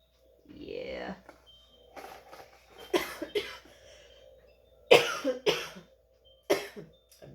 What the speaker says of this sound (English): I had this phlegm in my throat, so I have to cough